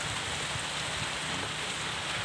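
Rain falls steadily in Singkawang Selatan, a dense, even hiss of drops that stays loud and constant throughout with no voices.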